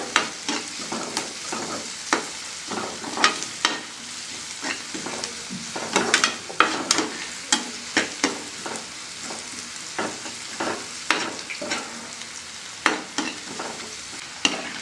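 Onions frying in a pan with steady sizzling, broken by repeated sharp scrapes and clinks of stirring throughout, close and moderately loud with no talking.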